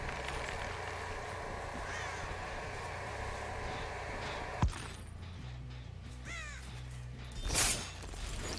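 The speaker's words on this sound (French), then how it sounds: "le petit corbeau qui m'indique exactement où est-ce que vous êtes" Crow caws in the Dead by Daylight horror game, a few short calls over a steady ambient drone, followed by a sharp impact and a louder burst near the end.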